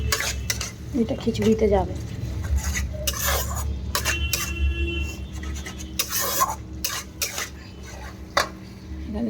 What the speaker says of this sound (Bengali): এখানে মশলা কষানো চলছে